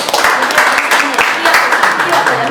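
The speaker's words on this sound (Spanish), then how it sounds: "Un aplauso, por favor," Dense, loud applause from an audience at a press conference greets Eduardo Chacón, a steady close wash of many hands clapping, with voices mixed in.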